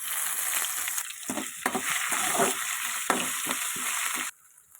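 Crushed ginger, garlic and green chili, with mustard seeds and curry leaves, sizzle loudly in a hot pan for a village-style tomato thokku, with stirring scrapes, before the sizzle cuts off abruptly near the end.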